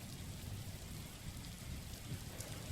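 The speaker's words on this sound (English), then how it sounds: "Rain, free rain sound." Steady free rain sound recording playing throughout, a dense even wash of rainfall on surfaces with fine droplet patter and no gaps or voices.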